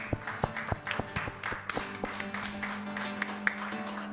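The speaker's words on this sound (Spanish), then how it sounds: "Un aplauso al Señor Jesús." Congregation clapping in a church service: sharp, distinct claps ring out at first, then settle into a steadier patter of scattered hands, with a low sustained tone running underneath throughout.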